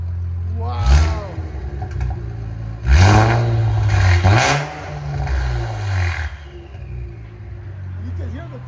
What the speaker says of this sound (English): You can hear the turbo spooling up.